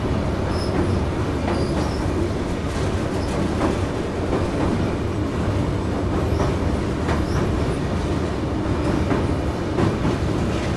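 Steady, loud rumble of a moving train heard from on board, with continuous rolling wheel noise and faint rhythmic clicks over the rails and no talking.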